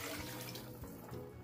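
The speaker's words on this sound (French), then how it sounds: "là je vais mettre 600 ml d'eau" Water runs steadily from a tap into a cooking pot as 600 ml is poured in for a Senegalese stew of lentils and chicken, a continuous close splashing fill with no talk.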